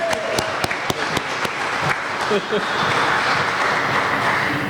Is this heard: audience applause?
yes